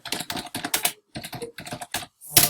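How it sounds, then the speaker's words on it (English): Bursts of rapid typing on a computer keyboard, several quick runs of key clicks separated by short pauses, close and clear with no voices. "So I'm going to type in TAFE"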